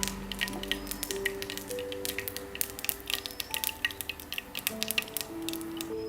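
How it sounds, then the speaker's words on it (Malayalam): Mustard seeds crackle and pop in hot coconut oil in a pan, a dense run of close, irregular spluttering bursts over a steady sizzle, with no talk. "നമുക്കിതിലേക്ക് ഒരു 1/4 ടീസ്പൂൺ കടുക് ചേർത്ത് കൊടുക്കാം."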